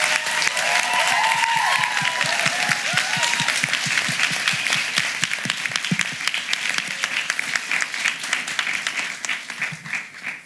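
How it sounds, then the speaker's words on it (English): A crowd at a youth climate activist event with mayors applauds with loud, dense clapping that carries on for several seconds before gradually thinning out, with a few cheers near the start. "Give her a big round of applause."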